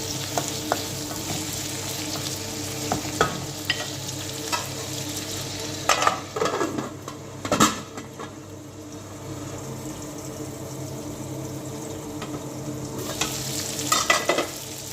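Chopped tomato cooking down with onions in a pan for a fish curry, a steady low sizzle broken by bursts of spatula scraping and stirring clatter, close and moderately loud.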